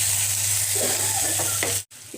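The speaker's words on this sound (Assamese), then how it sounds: "আৰু এতিয়া এইখিনি মই মিক্স কৰি অলপ সময় ভাজি ল'ম।" A mixture of turmeric, coriander and red chilli powder fries in a pan with a steady, close sizzle and faint stirring scrapes, then cuts off abruptly near the end.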